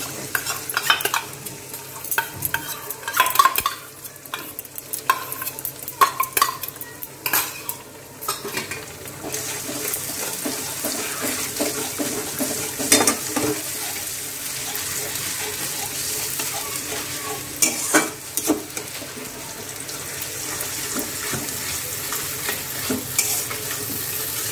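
Prepared spice paste fries with cauliflower in a pan, with busy stirring clatter and scraping at first, then a steady, close sizzle broken by frequent spoon strokes.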